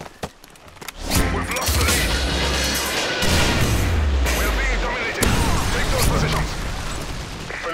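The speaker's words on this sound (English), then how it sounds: "Friendly Predator missile inbound." A Predator missile strike in Modern Warfare 3, on the Village map, lands as a heavy, loud blast, followed by a long rumbling roar and scattered gunfire, with voices talking over it.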